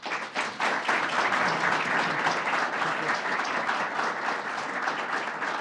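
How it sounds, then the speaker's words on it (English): An audience applauds the acting New York State Police superintendent, a full, steady burst of clapping that rises quickly and stays even, with a hint of murmuring voices in the crowd. "I want to give a round of applause to our acting superintendent"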